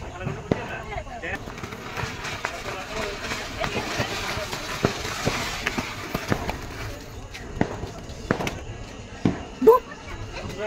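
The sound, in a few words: Diwali firecracker bomb exploding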